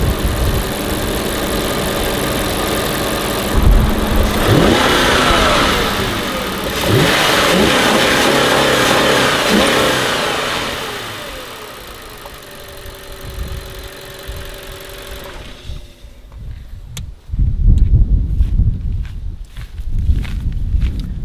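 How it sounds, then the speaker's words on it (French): An Audi A6 4.2 FSI V8 revs in a garage: loud sustained engine roar rising and falling through several blips, then settling to a steadier idle hum before cutting out, followed by scattered footsteps and handling noises. "Vous avez un V8 4 litres de FSI sur cette superbe auto."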